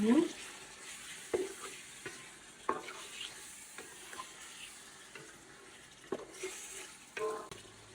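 Yogurt-marinated chicken fries and is stirred in a pan for biryani, with a soft background sizzle and scattered scraping stirs and clinks of the spoon, close and moderate in level.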